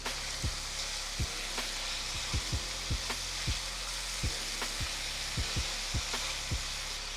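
Steak and onions fry with smoked paprika in a hot pan, a constant bright sizzle broken by a series of dull, irregular thumps, close and unaccompanied by speech.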